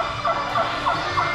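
Electronic turkey gobble effect from a target shooting game at a holiday-themed theme park in Santa Claus, Indiana, repeating as several short warbling bursts over a steady background of park noise and music.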